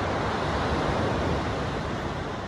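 Ocean surf rolls below the Dungeness Bluffs on the Strait of Juan de Fuca as a steady, loud, continuous wash of breaking waves with no pauses and no voices.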